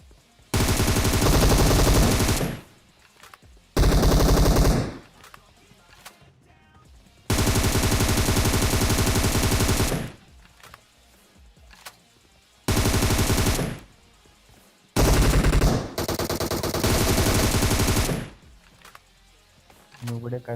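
Bursts of automatic gunfire from PUBG Mobile ring out in long sustained volleys separated by short pauses, loud and dense, with quieter in-game movement and thuds between them.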